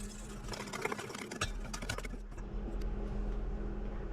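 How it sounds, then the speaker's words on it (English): Flour mixture whisked in a bowl for a cabbage casserole, a busy run of quick clicking and scraping strokes that stops partway, leaving a steady low hum behind. "And we whisk this until it is smooth."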